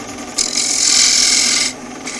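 A wood lathe turning while a negative rake scraper is drawn up at an angle across the spinning piece, making a loud, steady raspy scraping that lasts just over a second between quieter rubbing.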